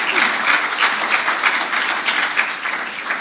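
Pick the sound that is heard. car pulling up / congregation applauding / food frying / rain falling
congregation applauding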